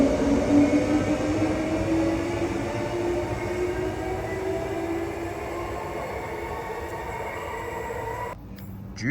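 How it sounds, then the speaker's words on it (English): A two-car train pulls into platform 3 at Midland station, a steady loud rumble of wheels and engine with a sustained tonal hum, ending abruptly as it settles. "now there's going to be a train on platform 3. It's a 2-car as well, and here it comes right now"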